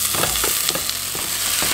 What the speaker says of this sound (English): I'm going to let this fry for about 5 minutes.